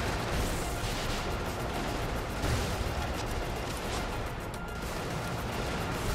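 Shotgun blasts from the mech combat game Brigador, a dense, continuous roar of loud gunfire and explosive booms filling the whole stretch with no pauses.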